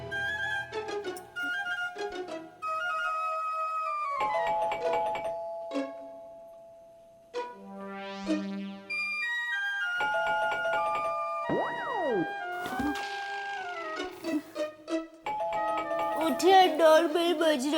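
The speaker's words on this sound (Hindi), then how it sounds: "उठिए, डोरबेल बज रही है।" A doorbell rings late at night in a home in a Hindi comedy, playing repeated melodic chime tunes with tonal ding-dong notes and a rising electronic sweep, sounding over and over across the stretch.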